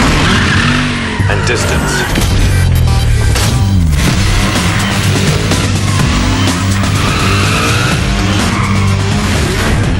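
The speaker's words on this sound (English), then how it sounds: "Use the handbrake to kick off the drift, then feather the throttle and brake to maximize it." A car drifts in the racing game Need for Speed Shift, its tires squealing loudly and continuously over a roaring engine for the whole stretch, with a voice talking over it.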